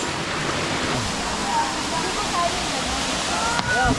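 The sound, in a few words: Balagbag Falls waterfall in Quezon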